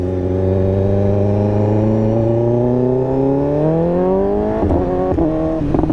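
A 2015 BMW S1000RR superbike fitted with an SC-Project exhaust accelerates hard and close, its loud engine note climbing steadily in pitch before a sharp shift near the end.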